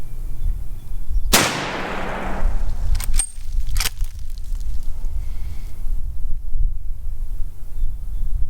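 A single loud rifle shot from Teddy Roosevelt's Big Medicine rifle firing Hornady Custom 300 grain InterLock soft points, a sharp crack with a long decaying boom, followed by a couple of faint knocks and outdoor wind noise.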